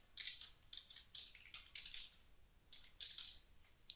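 Close, quiet typing on a computer keyboard while signup details are entered, in quick bursts of key clicks separated by short pauses.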